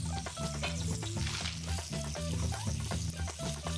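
Onions sizzling in ghee in a pan in the cooking game Venba, a continuous crackling fry sitting under soft game music with steady low tones, with no talking.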